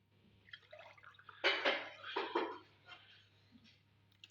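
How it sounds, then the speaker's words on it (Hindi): Water poured into a pot of carrots while making gajrela, a burst of splashing and trickling with a few drips before and after, close and moderately loud. "अभी हम इसके अंदर शामिल करेंगे 3 गिलास पानी"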